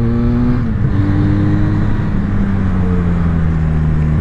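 A borrowed motorcycle engine hums loudly and steadily while riding through a series of mountain bends, its pitch easing down and shifting through gears, close and unbroken with no talk.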